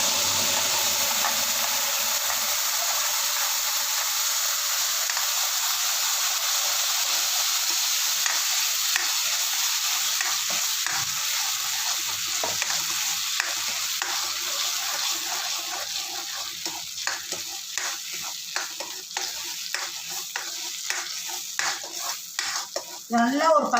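Steady sizzling and stirring of banana halwa sautéing in hot ghee, a continuous frying hiss with scraping strokes of the spoon growing more frequent toward the end, no talk.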